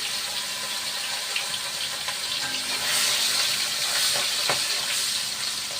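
Salted hilsa fish frying in hot oil, a steady broadband sizzle with crackling pops and a brief louder burst midway, close and continuous with no talking.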